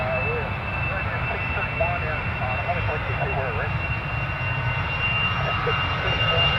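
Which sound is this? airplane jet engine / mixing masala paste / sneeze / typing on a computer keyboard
airplane jet engine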